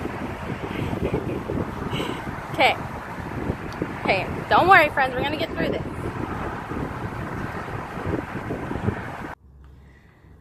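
Strong outdoor wind buffets the microphone in loud, rumbling gusts that continue steadily under a person talking, then cut off abruptly near the end.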